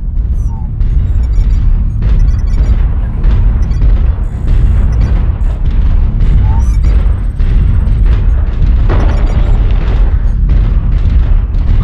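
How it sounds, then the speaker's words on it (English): Loud, repeated video game explosions boom and blast one after another over a constant heavy rumble, with occasional voices mixed in. "Couldn't see anything from explosions."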